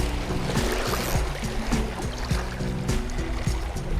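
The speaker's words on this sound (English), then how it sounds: "Can't really hear that drag buzzing with all these waves making the noise." Waves slap and splash against a small fishing boat on a carp lake, in close, irregular lapping bursts, with low knocking thumps from the hull.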